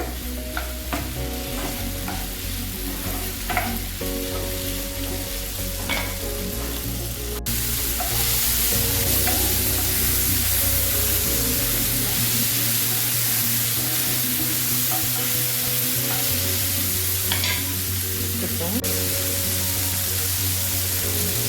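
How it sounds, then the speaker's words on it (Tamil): Ingredients sauté in a pan over a medium stove flame, giving a steady close sizzle and frying hiss with occasional stirring scrapes throughout; no talking. "இது சீக்கிரமாக வதங்கிடும் அதுக்காக போடுறது வதங்கட்டும் ஸ்டவ் மீடியமில் தான் இருக்குது"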